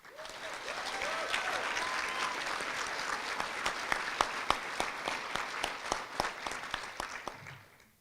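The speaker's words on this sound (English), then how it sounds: "please join me in a warm ovation for MCAD's Master of Arts graduates" Audience at the Minneapolis College of Art and Design fall commencement applauding Master of Arts graduates, a warm sustained round of clapping that builds quickly, holds with sharp individual claps standing out, then fades at the end.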